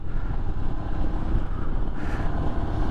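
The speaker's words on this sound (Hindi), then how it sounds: "आई होप आप लोगों को हवा की आवाज़ ना आ रही होगी। हवा बाहर बहुत तेज़ है" Strong gusting wind buffets the microphone while riding a motorcycle on the Leh–Manali road, a loud continuous low rumble with no talking.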